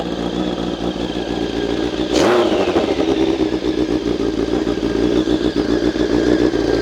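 A loud, highly modified Honda Sonic motorcycle engine, bored out to 1137cc, revs hard nearby, a sharp rising-then-falling sweep of revving followed by a steady, throaty idle rumble.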